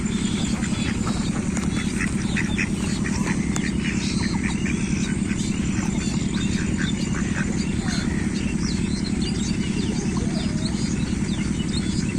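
Ducks quacking steadily over a dense, constant low rumble, with scattered bird chirps mixed in throughout.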